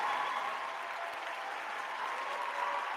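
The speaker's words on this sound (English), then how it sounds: "Round of applause." Steady applause from an audience, a dense even patter of clapping that holds at the same level throughout, with no voices over it.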